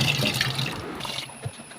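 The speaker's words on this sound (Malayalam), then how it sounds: "നന്നായി കഴുകി അരിപ്പയിലേക്ക് ഇടുക." Rice is washed in water in a home kitchen, making a short burst of close, soft splashing and sloshing that fades to light trickling.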